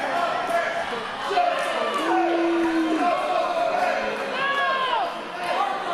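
Wrestling crowd at a CCW independent show reacting loudly to a wrestler's entrance, a continuous roar of cheers, jeers and whistles filling the hall, with an announcer's voice ringing over it and rising shouts near the end.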